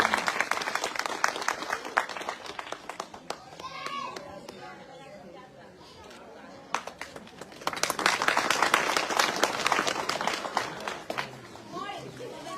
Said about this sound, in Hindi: आप सब लोग जोरदार तालियों के साथ हौसला अफजाई करें